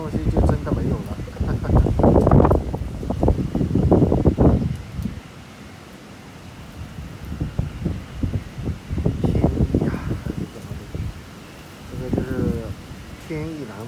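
Typhoon wind gusts buffet the microphone in strong, roaring waves amid heavy rain, loud and close, with someone talking through much of it.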